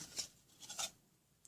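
A toy plastic C-clamp vise being loosened: a few faint, short scraping rasps spaced in quick succession, close by and quiet, with no talk.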